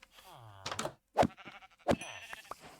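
Blocky sheep in a modded Minecraft survival game let out a few short, wavering bleats, close and clear, mixed with people talking and thumping hits.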